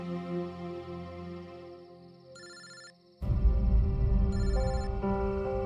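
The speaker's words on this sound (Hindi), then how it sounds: "घंटी तो अंदर ही बज रही है" A telephone rings inside a house, heard as tonal electronic ring bursts over a sustained musical background, followed by a sudden louder swell of dramatic music.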